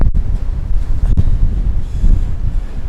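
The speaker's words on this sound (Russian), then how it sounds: "Ну, сейчас ветер, кстати говоря, не такой сильный" Cold wind buffets the microphone on a 19th-floor balcony of a high-rise residential complex in Anapa in November, a steady low rumble and roar with gusty swells, close and loud, with no talk.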